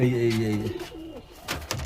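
Caged pigeons in a loft coo in low, throaty rolls at close range, a short burst that fades into background rustle and a faint voice.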